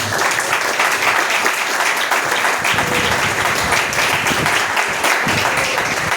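A Portuguese-speaking church congregation claps loudly and continuously, a dense, unbroken wash of applause filling the hall for the full stretch with no pause.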